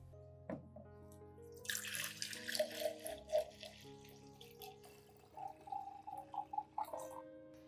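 Clean water poured into a plant fertilizer mixture to dilute it, with splashing and trickling in bursts and a few drips, heard close over a soft tonal music bed.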